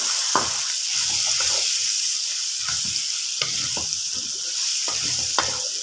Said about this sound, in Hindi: अब मैं इसको अच्छी तरह मिक्स करूँगा और टमाटरों को अच्छी तरह ब्राउन कर लूँगा।